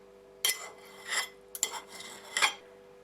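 A knife slices cooked green beans into pieces on a board: a few distinct crisp cutting strokes with short scraping tails, close and fairly quiet, spaced with brief gaps.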